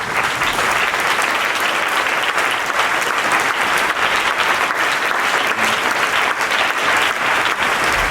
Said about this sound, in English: Clap it up for Monica.